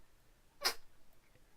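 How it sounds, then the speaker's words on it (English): A single short, sharp sneeze from a cat, close and fairly soft, in an otherwise quiet room. "She won't meow for me, but she will sneeze."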